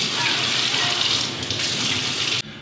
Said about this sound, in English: Test the water by letting it run before letting children or older adults wash their hands.